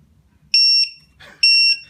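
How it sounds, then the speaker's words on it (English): A Matek Systems low-voltage alarm buzzer gives two loud, shrill electronic beeps about a second apart, each lasting roughly a third of a second, in a quiet room. "this is a good way to detect if the low voltage alarm is actually working or not"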